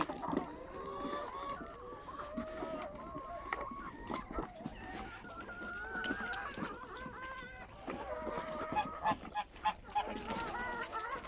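Farm birds honk and cackle repeatedly, geese calls mixed with clucking chickens, a busy overlapping flock at moderate distance.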